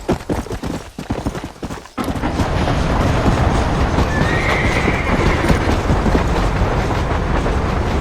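Horses in Red Dead Redemption setting off from town, hooves clip-clopping in an uneven rhythm before a rattling wagon or cart rumble takes over as a loud, continuous churn with a brief whinny-like squeal in the middle.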